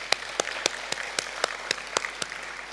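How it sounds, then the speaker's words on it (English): Audience clapping at a symposium, slow, evenly spaced claps in a rhythmic unison beat, each sharp and distinct, with softer scattered clapping between them. "Jamaican parlance, they say that clap is fenke fenke."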